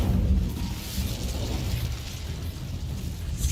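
Incendio fire spell from Hogwarts Legacy: a dense, sustained rumbling burst of flame with crackling pops, loud and close throughout, set amid a spell-casting duel with no talking.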